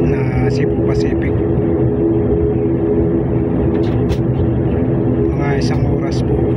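A Cebu Pacific airplane in flight fills the cabin with a loud, constant broadband engine roar and hum, while voices speak over it intermittently.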